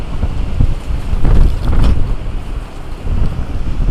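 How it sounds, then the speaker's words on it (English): Strong gusting wind from an Ontario wind storm roars and buffets the microphone, swelling loudest around the middle with steady low rumble throughout and no talking. "Look at how much wind there is."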